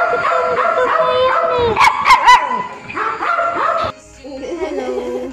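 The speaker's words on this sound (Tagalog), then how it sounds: "Ang cute ng aso." A puppy gives a few high yips and then soft whimpers, with people talking nearby throughout.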